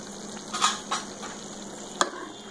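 A spoon scrapes and stirs through potato and eggplant curry in a pan over a gentle sizzle, with a few soft strokes and one sharper clink against the pan.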